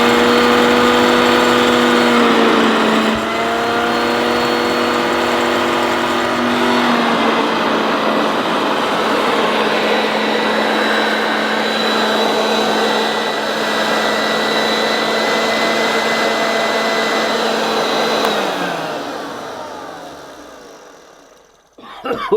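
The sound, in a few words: Hoover Junior 1346 upright vacuum cleaner running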